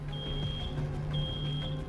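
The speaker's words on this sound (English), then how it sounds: "Sounds like a smoke alarm." A high electronic smoke-alarm beeping tone sounds twice in the video game Road 96, each lasting about a second, over a low steady hum and background noise.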